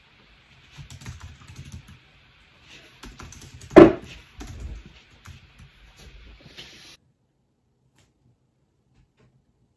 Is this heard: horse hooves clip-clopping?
no